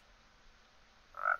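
A Minecraft frog giving a single short croak at the end of a quiet stretch, close and clear after near-silence.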